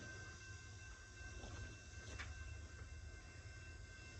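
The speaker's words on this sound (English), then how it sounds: "here comes the other train" Norfolk Southern train approaching in McDowell County, West Virginia, a low steady rumble with faint rail noise building gradually at a distance, no talk.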